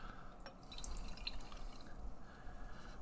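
Wheat wine ale poured into a tulip glass, a steady liquid stream and drip filling the glass at close range, fairly quiet with no talk.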